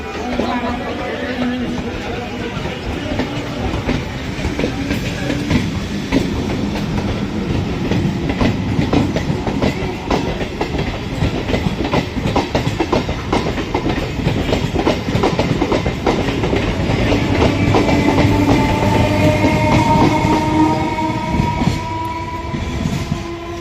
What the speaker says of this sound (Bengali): তো যাই হোক ট্রেনটা চলে গেল।